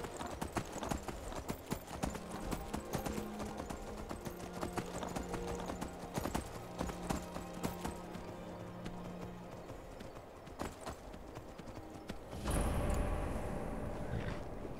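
Horse hooves clip-clop in the video game Skyrim, a steady rhythmic trot of close hoofbeats over background game music, with a brief neigh and a louder burst of movement near the end.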